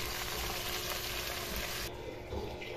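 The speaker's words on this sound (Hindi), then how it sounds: "अब चिकन भी इसमें अच्छी तरह से फ्राई कर लेना है।" Chicken fries with onions in a pot for pulao, a steady, loud, close sizzle that hisses continuously throughout, with no voices.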